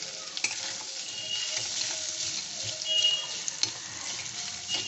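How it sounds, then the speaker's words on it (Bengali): Mashed potato being sautéed in a frying pan while making egg kabiraji cutlets, a steady close sizzle with soft stirring scrapes and occasional clinks, no talk. "আলুটা দিয়েও একটু কষে নেব ভালো করে।"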